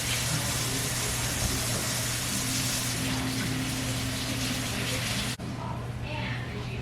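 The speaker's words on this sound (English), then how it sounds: "let me wash my hands real quick" Kitchen tap water runs in a steady, close gush while hands are washed, cutting off abruptly near the end, with a voice speaking over it.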